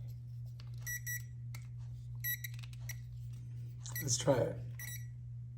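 Allosun GK7 voltage detector giving short, faint electronic beeps in repeated bursts over a steady low hum, with someone speaking quietly partway through.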